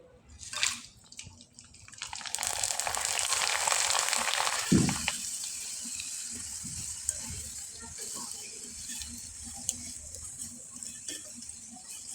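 Flour-dough chips frying in hot oil over low heat, a steady bright hiss and crackle of bubbling oil after a splashy drop-in, continuous and close with scattered small pops.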